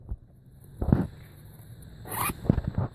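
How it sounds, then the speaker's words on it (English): A bag zipper pulled in two strokes, a short zip near the start and a longer rasping run later, close and fairly quiet with no talking. "Zips fine."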